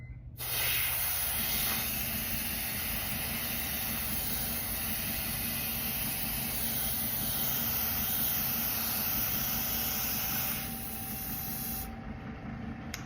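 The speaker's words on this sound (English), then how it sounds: "this is the best airbrush I done had motherfucking ever." An airbrush sprays paint onto jeans, a sharp continuous hiss starting abruptly, holding steady and close for about ten seconds, then easing and cutting off near the end.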